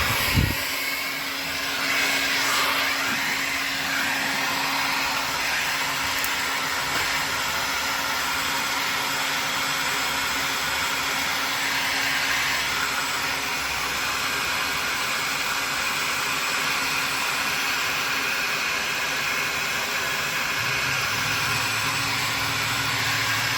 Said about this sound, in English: we're going to get our heat gun